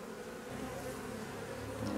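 Steady, dense buzzing of many honeybees in an open hive colony with a drone-laying queen, a continuous close insect drone with no voices.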